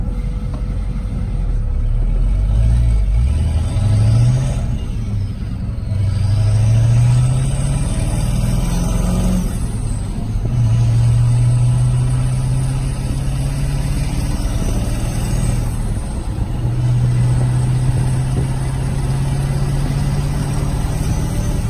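LB7 Duramax diesel truck with a 64 mm turbo driving down the road, a loud steady diesel drone with turbo whistle rising and falling through several gear changes as it accelerates.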